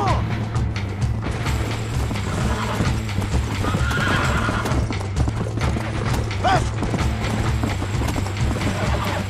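Steady rhythmic hoofbeats of a horse galloping in the Western video game Red Dead Redemption, continuous and loud, with occasional whinnies and game effects layered over the pounding clip-clop.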